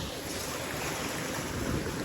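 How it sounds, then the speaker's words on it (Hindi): A tubewell pump runs with water gushing out in a steady, loud, unbroken rush, with a wind-like hiss throughout and no voices. "अभी ट्यूबवेल चल रहा है"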